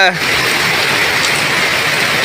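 Heavy monsoon downpour over a village in Bangladesh, a dense, steady, loud roar of rain pouring down continuously with no breaks, close and enveloping.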